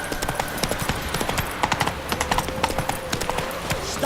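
Horse hooves clip-clopping at a steady trot in The Witcher 3: Wild Hunt, a rapid even rhythm of close, clear hoof strikes over faint background ambience.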